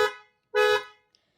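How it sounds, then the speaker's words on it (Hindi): Horn of a Mercedes electric car sounded twice inside the cabin: a short honk, a brief pause, then a slightly longer clear tonal blast, ending in quiet. "इसका हॉर्न जो है, यहाँ पर हमें मर्सिडीज़ का लोगो मिल रहा है और इसका हॉर्न जो है वो"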